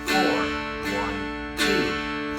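A mountain dulcimer is strummed in three ringing strokes, accented on beats 2 and 4, each attack fading into sustained chiming strings before the next, close and clear with no voice.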